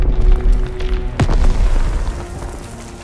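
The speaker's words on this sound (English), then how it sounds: "Artillery's hitting the beach!" Artillery shells slam onto a beach in the World War II shooter Call of Duty WWII: a sharp, loud impact boom cracks out amid rumbling battle noise, then the din slowly fades.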